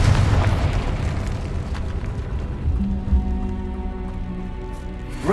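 Confringo spell blast in Hogwarts Legacy, a dense booming burst of fire and rumble that fills the clip loudly, with a steady tonal hum rising underneath toward the end.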